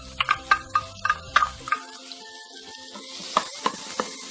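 Finely chopped onion, a large one, frying in oil with pine nuts in a pan, a steady close sizzle with crackling pops and occasional stirring clicks throughout.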